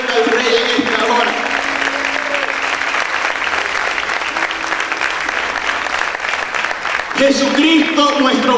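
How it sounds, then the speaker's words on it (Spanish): Loud, sustained clapping from a church congregation at a worship service rolls on for several seconds, with a voice and some musical tones heard over the applause near the beginning and again at the close. "A ver, aplaude fuerte al Señor."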